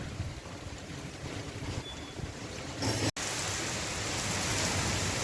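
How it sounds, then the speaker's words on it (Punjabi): Heavy rain pours down in a steady, dense hiss that grows noticeably louder partway through, with a brief dropout before the downpour continues. "ਬਾਰਿਸ਼ ਜਿਹੜੀ ਹੈ ਬਹੁਤ ਜ਼ਿਆਦਾ ਤੇਜ਼ ਹੋ ਗਈ ਹੋਈ ਆ"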